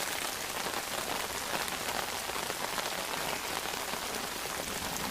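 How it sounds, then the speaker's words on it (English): Steady, dense downpour of heavy rain during a thunderstorm in the Missouri wilderness, hissing continuously on a surface, loud and unbroken throughout. "And heavier rain."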